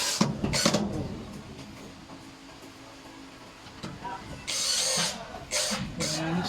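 Screwing the back base onto a grey four-drawer metal cabinet: short bursts of a power driver at the start and again near the end, with quieter handling noise between.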